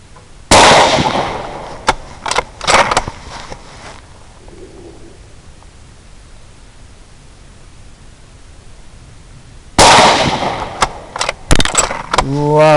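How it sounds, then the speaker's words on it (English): Suppressed .223 rifle shots fired outdoors while sighting in a thermal scope, heard as two clusters of sharp, loud cracks and thumps with a quiet stretch of background hiss between them. "I'm shooting suppressed 223 and it's just detecting that recoil beautifully"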